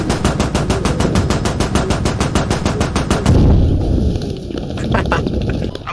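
Rapid automatic gunfire in the military shooter Squad, a loud evenly spaced burst of shots for about three seconds, followed by a heavier blast and scattered distant shots and rumble.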